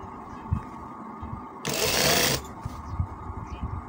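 Sewing machine stitching a kameez piece, a single loud steady whir lasting under a second near the middle, with quieter room noise before and after.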